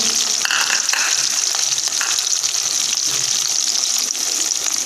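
Chopped onions and capsicum (shimla mirch) frying in a pan for chicken jalfrezi, giving a steady, close hiss of sizzling oil that runs unbroken throughout, with a few faint clinks of a spoon and no talking.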